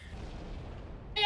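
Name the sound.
explosions in the video game Halo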